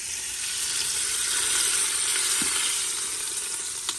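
Meat for a Cuban sandwich searing in a hot pan, a steady, loud, close hiss and sizzle that holds evenly throughout, with a faint scrape or two and no voices.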